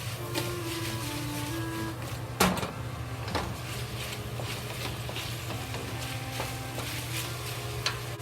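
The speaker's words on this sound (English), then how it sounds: "Just fry, don't let the meat or the squash stick to the pot." Sliced pork and yellow squash stir-fry in a pot with a steady low sizzle, broken by occasional scrapes and clinks as they are kept moving, including one sharper knock partway through.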